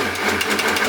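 Food processor motor whirring steadily while blending a batch of hummus, a constant close mechanical drone with a pulsing buzz that runs throughout without pause.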